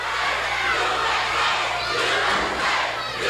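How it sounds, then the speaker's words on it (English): Sellout wrestling crowd in a packed arena roaring a chant of USA at a 1983 Southwest Championship Wrestling match, a dense, loud, sustained wall of voices. "Listen to the chant as a sellout crowd at the junction yells USA."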